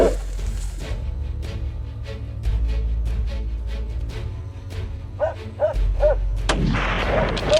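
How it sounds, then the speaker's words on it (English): Rifle shots during a wild boar hunt in farm country, a few loud booming reports over steady low rumble, with dogs barking in the background near the end. "Just one bullet, accurate to the millimeter, right in the middle of the wild boar's forehead."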